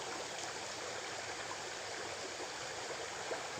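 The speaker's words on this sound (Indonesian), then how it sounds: "Kita mancing di sungai, bro. Sungai kecil." A small river in an oil palm plantation flows with a steady, faint, even rush of water, unbroken and without voices.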